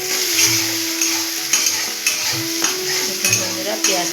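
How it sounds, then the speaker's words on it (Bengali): Sliced onions with turmeric and salt sizzle loudly in a hot pan, with repeated scraping strokes of a spoon stirring them at a steady rhythm, close and alone. "বন্ধুরা, পেঁয়াজটা লাল লাল করে ভাজা হয়ে গেছে।"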